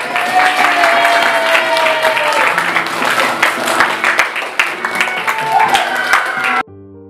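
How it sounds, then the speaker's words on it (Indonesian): Classroom applause from students, lively clapping with some cheering and voices mixed in, loud and sustained before cutting off abruptly. "beri tepuk tangan semuanya"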